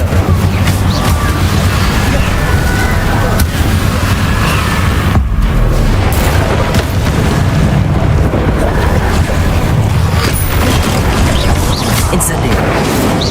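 Roaring, rumbling fire-spell bursts from the Incendio spell in Hogwarts Legacy, loud and continuous with repeated blasts over a steady wash of game noise, under spoken spell names.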